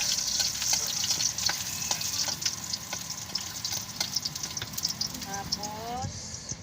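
Ginger and garlic fry in a hot pan, a busy continuous sizzle with the scrape and tap of stirring, and a few faint clinks near the end.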